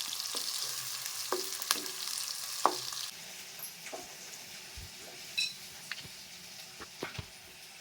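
Food frying in a pan with sauces added sizzles steadily, broken by scattered stirring clicks and utensil taps. The sizzle is louder at first, then softer.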